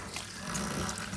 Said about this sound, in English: I like to keep a sink full of hot water when I'm baking.